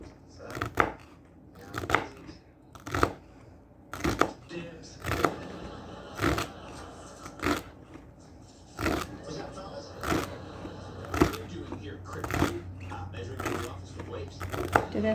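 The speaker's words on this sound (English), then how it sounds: "I'm just thinly slicing this up and chopping up the celery tops" A kitchen knife thinly slices and chops celery tops on a cutting board, sharp distinct chops landing in an irregular rhythm about once a second, close and crisp over a quiet background.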